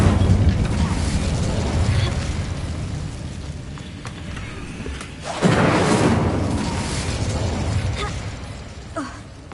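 Incendio fire spell in Hogwarts Legacy bursts with a loud roaring whoosh and booming rumble, easing off before a second fiery surge midway, followed by crackling pops.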